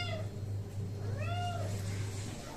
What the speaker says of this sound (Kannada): ಬೆಕ್ಕು ತುಂಬ ಕೂಗ್ತಾ ಇದೆ